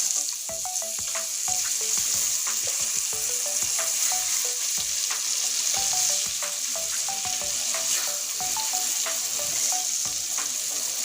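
Eggplant slices frying in a pan of hot oil and being turned over, a bright continuous sizzle with repeated spatula taps and scrapes throughout, close and steady.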